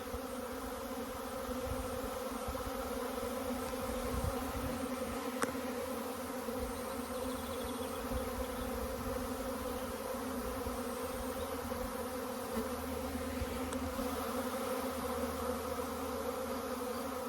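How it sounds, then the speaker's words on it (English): A steady, dense hum of honey bees buzzing fills the air continuously, even and moderately quiet, with no voices over it. "Lovely to see the bees."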